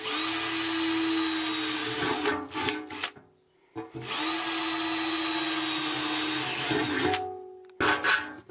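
A jigsaw cuts material during a camper bus build: two long, steady stretches of loud, buzzing sawing, each around three seconds, separated by brief pauses, then a short final burst.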